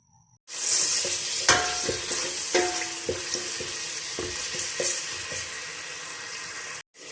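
Oil sizzles and spits loudly as ginger-garlic paste is fried, with a few clinks of a spoon stirring in the pan, steady throughout.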